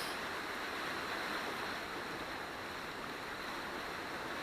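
A steady, heavy roar of the flooded Deep River pouring over the top of a dam fills the scene without a break, broad and constant.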